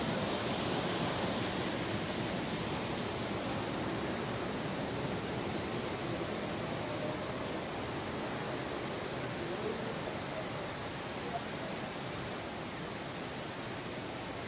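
Dudh Dhara waterfall in Amarkantak, a loud, steady broadband rush of falling water close by, unbroken for the whole stretch with no voices.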